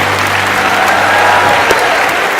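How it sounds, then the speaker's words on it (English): At a hospitality convention in Mumbai, a large audience gives a celebrated European chef a big round of applause, loud, dense clapping that stays steady from start to finish with a faint low hum underneath. "So here's a chance for you all to meet and talk to the Europe's most celebrated chef with a huge round of applause for Giovanni Di-Vito."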